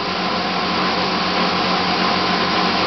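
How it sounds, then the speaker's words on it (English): A small 400-watt spin dryer whirs at full speed as it spins water out of washed clothes, a steady, dense mechanical roar with a constant hum and no pauses throughout. "Now all this water you're getting out here with the spin dryer means you're saving a hell of a lot of energy"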